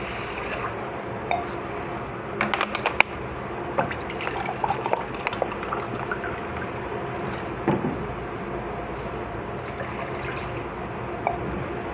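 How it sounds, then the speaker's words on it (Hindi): Water is poured into fried spice masala in a cooking pot, a steady trickling and filling sound with a few brief clinks, moderately close, with no talking. "अब हम इसके अंदर पानी डाल देंगे"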